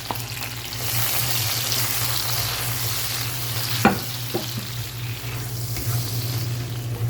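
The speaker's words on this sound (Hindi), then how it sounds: "अदरक लहसुन और टमाटर जो अच्छे तरीके से भून चुके हैं" Tomatoes with ginger and garlic paste frying in oil for karela pyaz, a steady sizzle with occasional stirring clatters from a spoon in the pan.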